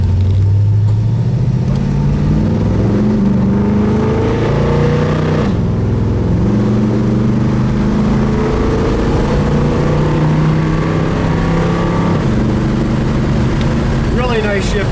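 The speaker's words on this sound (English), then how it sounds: "I'm just gonna go through the gears once." A 1969 Chevrolet Chevelle drives past close up, its engine revving up through the gears in repeated rising sweeps, each shift dropping the pitch before it climbs again, loud and continuous.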